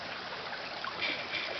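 A creek flows steadily along a hiking trail, a soft continuous trickle and gurgle with no voices.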